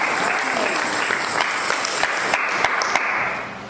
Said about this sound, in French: Nous pouvons nous asseoir et acclamer la parole de Dieu encore.